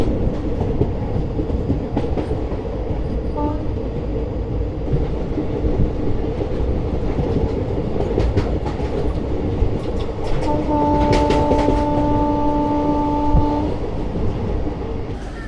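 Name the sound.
Howrah Chakradharpur Express train running at night, heard from inside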